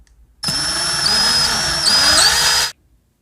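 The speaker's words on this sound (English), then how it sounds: "so now we gotta drill a hole through our end cap." A power drill bores a hole through an end cap for a homemade pulk sled, one loud, close, steady whine lasting about two seconds, its pitch sagging slightly under load before it cuts off.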